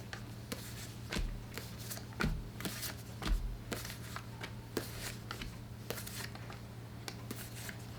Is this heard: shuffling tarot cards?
yes